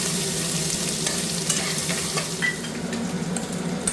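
Grated ginger fries in hot oil with fennel seeds in a pan for khichuri, making a loud, continuous sizzle mixed with steady stirring and light scraping, with no talking.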